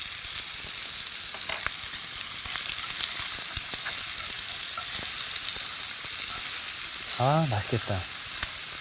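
Korean zucchini sizzles steadily in a hot frying pan as it is seasoned with salt and pepper, a continuous close crackle running the whole time, with a brief voice speaking near the end.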